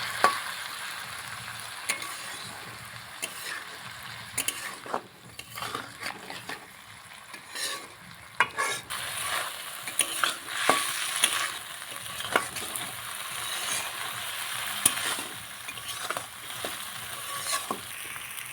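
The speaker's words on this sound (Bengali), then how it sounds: "এবার দিয়ে দিচ্ছি সিদ্ধ করে রাখা মসুরির ডালটুকুনি।" Boiled masoor dal is stirred in a frying pan, giving close, steady sizzling with repeated scraping and clacking strokes of the spoon throughout and no one speaking.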